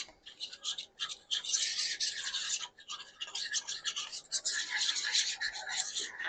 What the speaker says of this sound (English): let's give that a whisk and make this a nice little slurry for that.